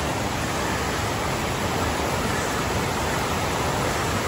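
A waterfall at Ricketts Glen State Park in early fall pours in a steady, dense roar of rushing water, close and unbroken throughout, with no voices.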